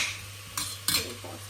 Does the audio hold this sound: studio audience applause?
no